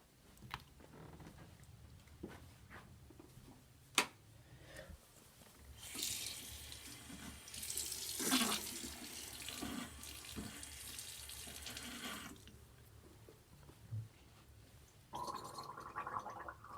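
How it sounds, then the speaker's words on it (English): Water runs steadily from a kitchen tap for several seconds, a broad continuous rush that swells and then cuts off, with a few clinks and handling sounds before and after and no talking. "I'm gonna get water."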